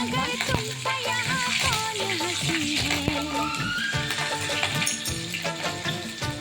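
Nigella seeds, flattened rice and a green chilli crackle and sizzle in hot oil left from frying fish, a busy steady spatter with stirring clinks and a voice talking over it.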